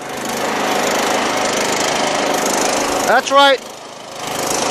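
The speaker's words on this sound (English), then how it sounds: "make sure that both cylinders are running" A Craftsman PYT9000 lawn tractor with a 24 HP Briggs V-Twin engine runs at a steady, loud drone close by. Someone speaks briefly over it near the end as the engine note dips.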